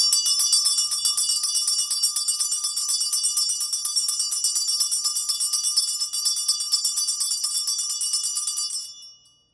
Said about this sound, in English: I'll go ahead and end this with a quick sound bath.